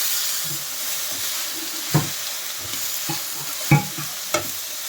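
Capsicum, green chillies, tomatoes, tamarind, peanuts, cumin and coriander seeds fry in a pan with a steady bright sizzle, broken by several sharp scrapes and clinks as a spoon stirs them.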